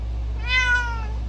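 A single close cat meow, clear and drawn out for about half a second, rising and falling over a low steady hum.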